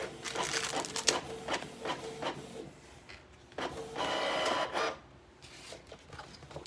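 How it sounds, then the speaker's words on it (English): A cheap wireless printer prints a shipping label, with rapid mechanical clicks and ticks followed by a longer whirring feed pass and a few final clicks, close and alone. "The printer will start its process"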